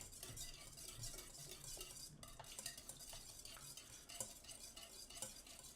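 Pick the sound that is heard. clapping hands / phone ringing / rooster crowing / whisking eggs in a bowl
whisking eggs in a bowl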